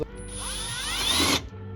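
A power drill with a hole saw whines steadily for over a second, its pitch rising as it bites in, then cuts off abruptly and leaves quiet.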